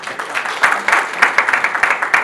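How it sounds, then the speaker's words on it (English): Loud audience applause at a conference forum, a dense crowd clapping with steady rapid claps throughout, close and filling the room. "Another round of applause for him,"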